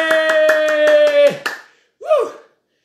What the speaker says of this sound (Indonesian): Ayo, tepuk tangan dulu dong. Tepuk tangan dulu,